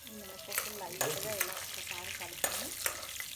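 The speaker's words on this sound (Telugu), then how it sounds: "ఇప్పుడు ఆయిల్ మరిగిపోయింది ఇప్పుడు ఇందులో ముందుగా ఒక స్పూన్ మినపప్పు" Black gram dal dropped into hot oil for a tempering, frying with a steady close crackle and sizzle, broken by several sharp stirring clinks.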